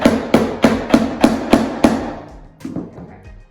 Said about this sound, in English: So we're gonna just hammer these in